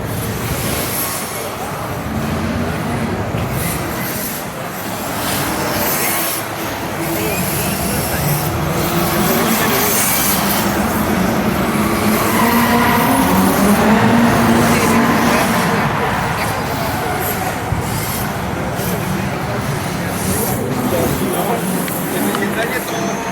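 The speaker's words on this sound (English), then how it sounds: "There's actually an indoor RC drift track, which is super cool." RC drift cars whine and buzz around an indoor track at an event in Poland, their thin high motor tones rising and falling beneath steady crowd chatter and a person talking nearby.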